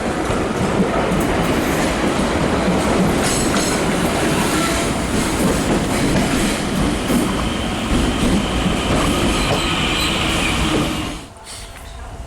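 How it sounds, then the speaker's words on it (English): A DART commuter train in Dublin at night rumbles past loudly and continuously with rhythmic wheel clatter and faint squeals, then drops off sharply near the end. "My train across the river is coming now, and one going to Greystones is coming the other way"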